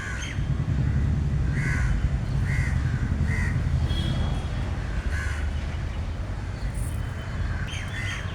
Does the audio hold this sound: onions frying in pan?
no